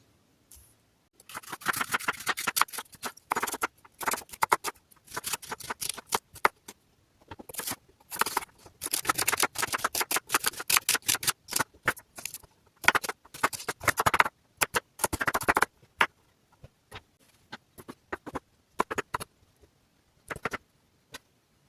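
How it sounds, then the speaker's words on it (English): Knife chopping carrots, celery and onion on a cutting board, quick irregular bursts of sharp taps with short pauses between runs, close and fairly loud with no talking. "Okay, so I'm going to go ahead and chop up these vegetables that I have."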